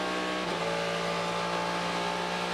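A Corvette race car at the Rolex 24 at Daytona, its engine a loud, steady, harmonic-rich roar held at high revs, with a brief shift or surge near the start and no talking over it.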